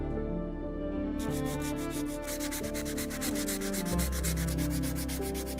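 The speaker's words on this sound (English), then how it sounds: "we'll try to clean it up using a piece of sandpaper with the number 120 on it" A metal sword guard is rubbed with 120-grit sandpaper, a steady scratchy rasp that quickens into rapid, rhythmic back-and-forth strokes, close and continuous, with no voices.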